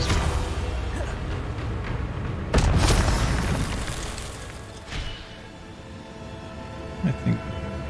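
Spell blasts from a Harry Potter video game played on Hard difficulty, a loud booming burst followed by a rumbling decay, then smaller pops a few seconds later, with game effects running underneath.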